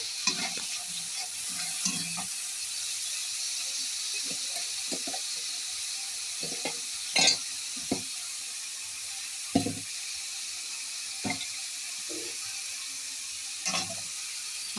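Ginger paste frying in a curry as it is stirred, a faint steady sizzle with scattered spoon scrapes and clinks against the pan, spaced irregularly and without talking.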